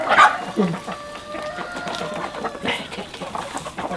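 Chickens cluck in short bursts close by, with a few faint bird calls and some background movement.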